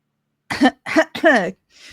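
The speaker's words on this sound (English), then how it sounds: "While you're coughing" Three quick, harsh coughs in close succession, loud and close up, followed by a faint breath.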